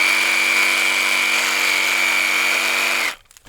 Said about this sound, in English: A chainsaw.